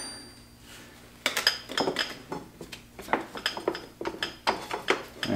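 A screwdriver pries back the brake calipers against the disc on a Suzuki GSX-R, making a run of sharp metallic clinks and scrapes in quick, uneven succession, close up with no talk.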